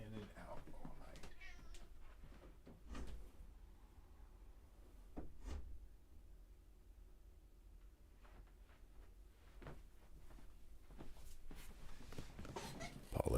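A house cat meows several times, mid-distance, during a quiet indoor session of computer level design, with a person talking intermittently and faint desk sounds in the background.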